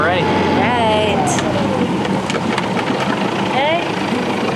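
A sailboat's inboard engine idles with a steady low rumble underway in open water, running continuously beneath people talking nearby.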